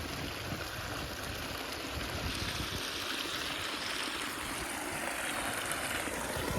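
Irrigation water gushing steadily into a cumin field, a continuous broadband rush that holds even and fairly loud throughout with no voices.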